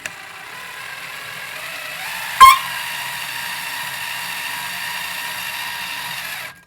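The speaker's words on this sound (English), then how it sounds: "I'm going to rotate this stone with my drill and cut it" A steady mechanical whir of a drill spinning a valve seat cutting stone, continuous and fairly quiet, with a brief sharp click partway through.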